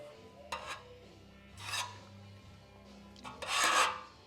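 Body filler is spread as a skim coat over a 1932 Ford dash, giving three short scraping, rasping strokes of a spreader across the metal, close up and separated by quiet pauses.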